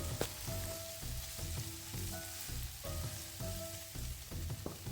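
Onions and curry leaves sauté in oil for an egg squid curry, a quiet steady sizzle with rhythmic scraping stirs and faint utensil clinks, heard close without any voices.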